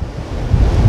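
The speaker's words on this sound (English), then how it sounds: "The gusts are crazy out here." Powerful wind gusts blast across the microphone outside an off-grid home during a rain and wind storm, a loud rumbling roar that swells louder toward the end, no talking.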